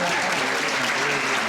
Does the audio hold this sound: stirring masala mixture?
no